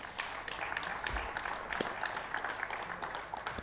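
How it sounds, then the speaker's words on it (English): Applause for departing students at a national financial literacy quiz, fairly faint, scattered clapping from a crowd that continues steadily for a few seconds. "Let's give them a round of applause as they exit."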